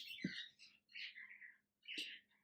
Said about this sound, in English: Birds are on fire today again.